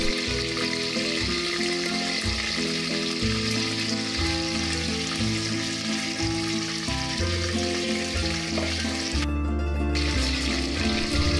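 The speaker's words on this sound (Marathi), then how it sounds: "तापलेल्या या तेलात कढीपत्त्याची पानं घाला" Curry leaves sizzle in hot oil with a bright hiss beneath loud background music that carries a steady melody and beat the whole way through.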